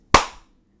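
A single sharp, loud hand slap from a dap-up handshake, close and crisp, with a quick fading tail.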